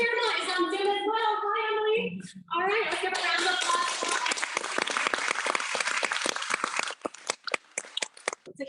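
Audience applause at a community awards event, a loud crowd clapping that builds after a brief spoken passage and then thins into scattered, separate claps near the end, with voices mixed in over it.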